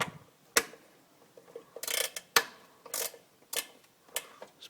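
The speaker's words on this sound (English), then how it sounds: "I've got this little ratchet that uses" A small ratchet fitted with 1/4-inch hex bits loosens hard-to-reach screws on an evaporator fan, producing sharp, close clicking bursts at irregular intervals with quiet gaps between them.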